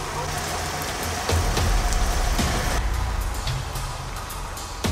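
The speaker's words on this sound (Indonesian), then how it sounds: "Lagi nunggu hujan dulu." Rain falls steadily outdoors during a music video shoot at Bukit Aher, a dense, even hiss with faint low rumbles beneath.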